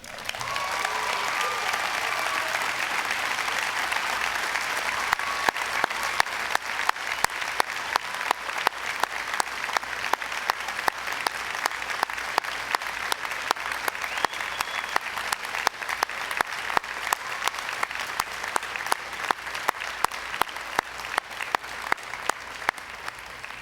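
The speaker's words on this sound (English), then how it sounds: "stand up and receive their well-deserved round of applause." Sustained applause fills the hall at a business school graduation ceremony, a dense wash of many hands clapping steadily and loudly for over twenty seconds, building into sharper rhythmic claps toward the end, with no speech over it.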